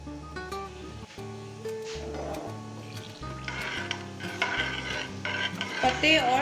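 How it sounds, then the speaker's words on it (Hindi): Red chillies and curry leaves fry in oil in a pan. The sizzling and crackling grow louder in the second half, over tonal music with occasional utensil clinks. "एक फ्राई पैन में हम ऑयल लेंगे और उसमें हम सुर्ख मिर्च और कड़ी पत्ता शामिल कर देंगे"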